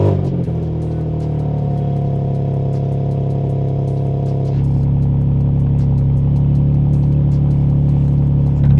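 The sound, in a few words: BMW M2 cold start revving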